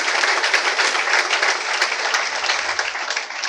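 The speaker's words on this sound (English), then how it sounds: "So a round of applause, please." Audience applause at a cabin crew fair, dense, loud clapping from a crowd that holds steady throughout, with a faint murmur of voices underneath.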